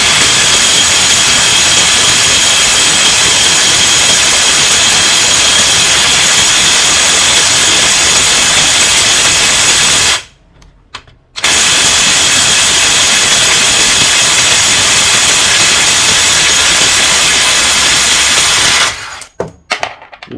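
A DongCheng DCPB968 impact wrench at maximum speed setting hammers loudly and continuously up close, cutting out briefly before starting again, with a second short pause near the end.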